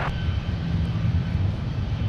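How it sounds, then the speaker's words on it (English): A Delta airliner arriving at Minneapolis–Saint Paul airport from Bozeman, Montana, heard as a steady low engine rumble at moderate distance, unbroken and without talk. "And here is Delta coming in from Bozeman, Montana."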